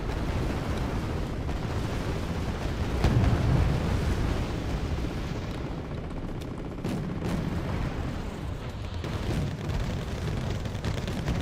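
A Nighthawk bomber drops its payload in the video game Wargame AirLand Battle, setting off a dense, rumbling wash of distant blasts and gunfire. A heavier thump lands near the three-second mark.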